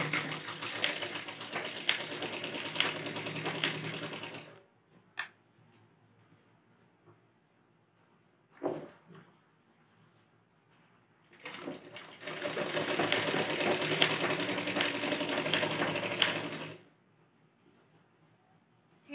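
A sewing machine stitches the hem of a saree petticoat in two long steady whirring runs, separated by a quiet pause with a few handling clicks.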